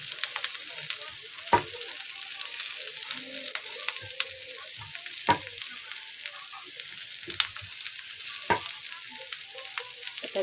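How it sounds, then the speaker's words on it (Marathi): Grated coconut roasts in a pan after browned onion for a fish recipe, giving a soft steady sizzle with a few sharp ticks and scrapes of a spoon, alone and fairly quiet. "आता छानपैकी खोबरं पण भाजून घेऊया."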